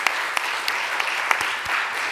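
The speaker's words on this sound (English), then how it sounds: "Can we please have a round of applause for Amy and recognize her outstanding efforts to bring us to this point?" A round of applause for Amy at a social service workforce symposium, steady clapping from a seated audience with a few sharper claps standing out, moderately loud throughout.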